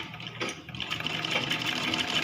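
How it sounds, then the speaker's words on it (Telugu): A sewing machine stitches around the edge of a baby frock, giving a fairly quiet, fast, steady mechanical whirr with a continuous rapid rhythm and no talking. "ఇట్లా చుట్టూ మొత్తం కుట్టుకుంటూ రావాలి."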